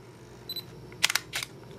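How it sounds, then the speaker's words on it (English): Quiet shutter release of an Olympus Pen E-PL1 Micro Four Thirds camera, a few soft close mechanical clicks in quick succession against a near-silent background. "The shutter release is super quiet."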